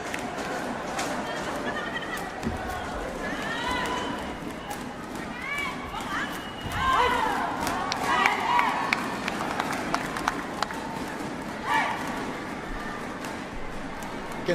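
Crowd at a women's regu sepaktakraw World Cup semifinal, Thailand vs Malaysia, in a Patna sports complex: a steady murmur of spectators with scattered shouts and swells, under continuous commentary.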